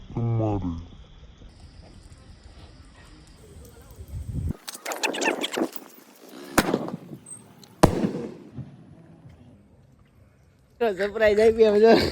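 Firecrackers and fireworks go off outdoors beside a rain-filled pond, giving a burst of crackling pops followed by sharp bangs, with someone talking before and after.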